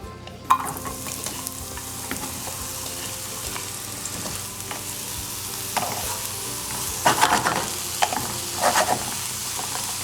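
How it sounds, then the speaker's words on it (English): Mushrooms sizzle in avocado oil in a pan over low heat, a close, continuous crackling hiss broken by louder bursts of stirring and tossing near the end. "So I've got my pan heating with the avocado oil. It's on low right now, and all I'm going to be doing is just adding my mushrooms to it."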